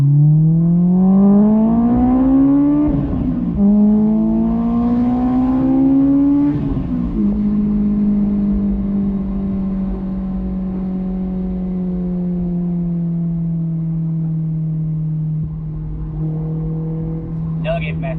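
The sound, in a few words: Honda S2000 inline engine revving, VTEC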